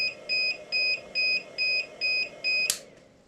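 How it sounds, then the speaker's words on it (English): An inverter's low-voltage alarm sounds six steady electronic beeps in an even rhythm, each a pure high tone, ending with a brief click. "it'll start alarming because it has a low voltage alarm on the inverter"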